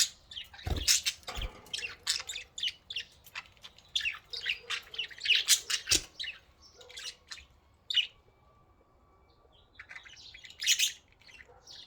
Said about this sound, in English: What is that? Are those birds?